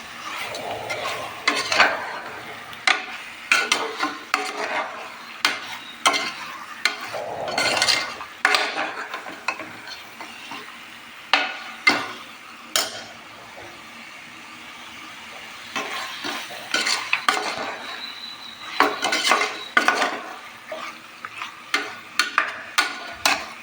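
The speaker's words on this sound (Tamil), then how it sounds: "இதெல்லாம் நல்லா சேர்த்துட்டு நல்லா கிண்டி விட்டுக்கலாம். பச்சை ஸ்மெல் போகிற அளவுக்கு கொஞ்சம் வதக்கிக்கலாம்." A spoon scrapes and clatters against a pan as chicken curry masala is stirred and sauteed, irregular metallic knocks over a low sizzle, close up.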